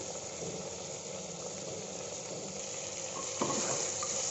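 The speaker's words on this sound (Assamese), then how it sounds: "এইখিনি ঢাকনটো খুলি অকণমান লৰাম। এতিয়া কাটি ৰখা আলুকেইটুকু মই ইয়াত দি দিম" Pork with bamboo shoot and potatoes sizzles steadily in a pan as a spoon stirs through it, a soft continuous fry with a brief scrape of the utensil near the end.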